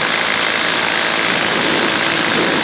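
A small propeller aircraft in flight, its engine and airscrew a loud, steady, broadband drone that stays constant and close throughout, with no voices.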